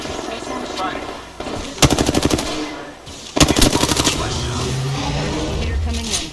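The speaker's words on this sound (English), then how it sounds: "A second squad is firing on us." Automatic weapon fire from the video game Apex Legends cracks out in two sharp rapid bursts over a steady background of game sound, with a player talking in between.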